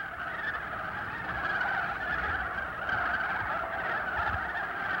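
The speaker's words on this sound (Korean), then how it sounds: "저게 그 백록담에 살고 있는 개구리 소리인데요" Frogs croaking at Baengnokdam, the crater lake atop Hallasan on Jeju, a continuous dense chorus of nasal, honk-like calls held at steady volume throughout.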